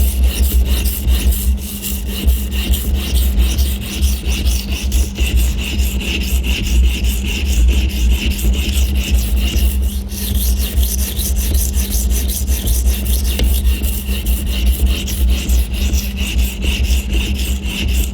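Santoku knife blade stroked steadily across a 220 grit stone on an Edge Pro Apex sharpening system, giving a continuous close rasping rub with no pauses and no voices.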